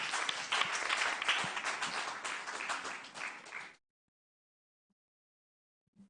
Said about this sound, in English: She deserves a better round of applause